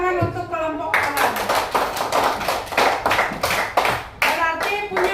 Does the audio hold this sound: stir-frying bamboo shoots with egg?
no